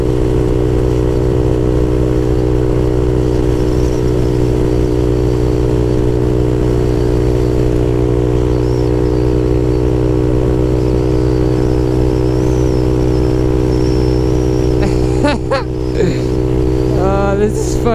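A Honda Grom motorcycle holds top speed on a freeway, its small engine droning loud, close and steady with constant wind roar, joined near the end by a brief whining tonal sweep.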